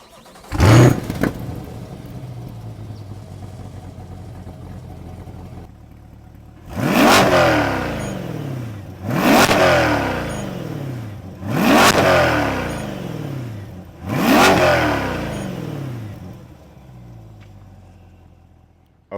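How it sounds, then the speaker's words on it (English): A Chevy Corvette Stingray 3LT fires up by remote start with a sharp bark, settles to idle, then revs four times in quick loud blips, each falling back to a steady rumble. "that's what the Corvette sounds like"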